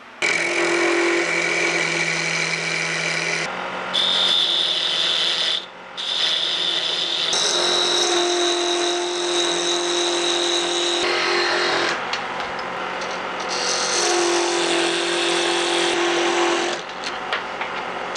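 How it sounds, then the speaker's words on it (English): A power drill whines steadily at high speed, drilling an axle hole for a small propeller on a steampunk dirigible ornament, its pitch shifting as it bites in, with brief pauses and restarts, loud and close. "This hole I'm drilling is going to be for the axle of the propeller."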